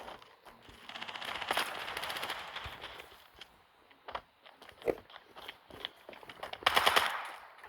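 Bursts of rapid automatic video game gunfire rattle in quick strings, with sharp separate shots between them, loud and close, broken by short quiet gaps.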